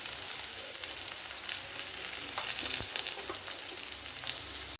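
Onion and lentils sautéing in a pan for a tomato and brinjal chutney, making a steady, fairly soft frying sizzle with light crackles throughout and no speech.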